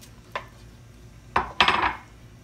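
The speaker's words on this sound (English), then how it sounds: "Let me put them out in the bowl so y'all can see the size of them" Meatballs for spaghetti and meatballs drop into a bowl, giving a faint tap followed by a pair of sharper clinks and a short rattle of dishware against a quiet background.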